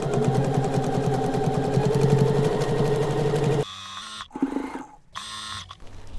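A sewing machine runs a steady, dense stitching whir while sewing stretched elastic into the waistband of beginner pajama pants, then stops abruptly, leaving a few quiet handling sounds and short mechanical bursts.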